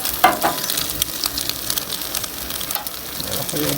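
Food frying crisp in hot oil, a steady crackling sizzle running throughout with a few sharper pops near the start, close and moderately loud.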